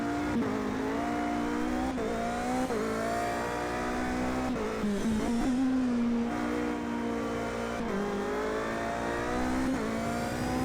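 A racing car's engine in a racing game at the Nurburgring GP, loud and continuous, revving up and down through gear changes as it accelerates and brakes through corners, with no voices.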